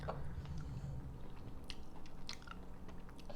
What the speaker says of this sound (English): Good job, you're chewing really well